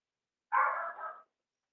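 One short dog bark or yelp sounds indoors in a dark room, close and fairly loud against otherwise total silence.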